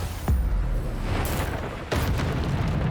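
A Bombarda blasting spell going off in Hogwarts Legacy, with a sharp boom near the start and a second burst about two seconds later over dense game noise.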